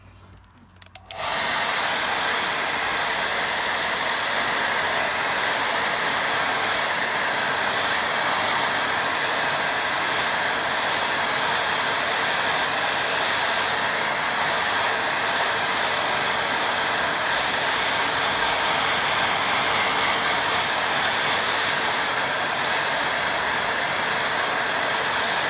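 A hair dryer blows steadily at close range to dry a watercolour painting, a loud continuous whoosh starting after a brief quiet moment and running unbroken to the end.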